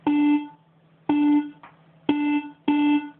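Four short, bright bleep stabs made on the TAL BassLine synthesizer, buzzy in tone, each ringing briefly before cutting off, in an uneven rhythm.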